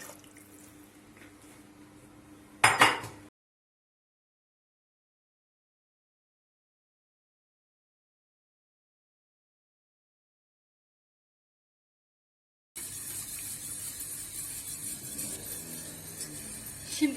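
Water splashes and swishes as a cooking pot and plate are rinsed, with a clatter, then a long silence before the running, sloshing water returns.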